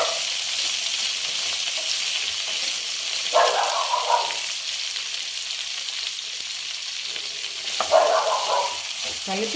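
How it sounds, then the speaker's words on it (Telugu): Okra frying in a pan with cumin seeds, a steady close sizzle and crackle running throughout, with two brief louder bursts of stirring and spattering partway through. "జీలకర్ర వేసుకొని అది చిట్టుపట్టు అనేటప్పుడే బెండకాయలు వేసుకున్నాం."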